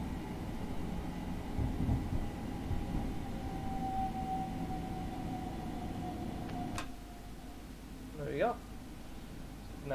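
A Class 377 electric train coasting in Train Simulator 2021 gives a steady broadband rumble and hiss with a faint tone. A sharp click follows, then a few brief chirping sounds near the end.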